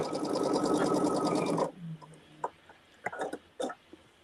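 A sewing machine runs steadily for about a second and a half while stitching a quilt block seam, then stops, followed by scattered light clicks and handling sounds.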